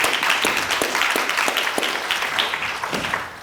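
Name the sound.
audience applause at a forum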